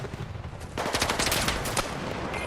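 Gunfire in a video game shooter, heard as rapid automatic bursts that break out after a short quiet stretch, crackling and fairly close with a brief pause between volleys.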